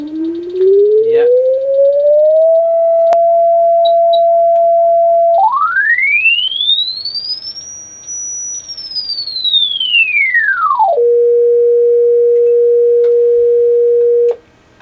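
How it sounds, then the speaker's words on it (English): Pure test tone sweeping through a Wurlitzer Niagara jukebox speaker, gliding up from low, holding steady, arching high and back down, then holding a single tone before cutting off. "see if it's got a good response right from the bass notes all the way to the high frequencies"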